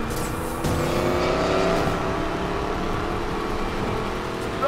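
A car engine growls and revs steadily in the Need for Speed Payback racing game, a loud continuous drone with rising pitch sweeps as it accelerates, plus hints of tire squeal and no talking.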